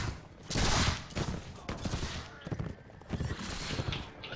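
Musket volleys crackle in the Mount & Blade With Fire & Sword video game as soldiers fire at a cavalry charge, several dense bursts of gunfire rolling out over battle noise with a voice heard briefly.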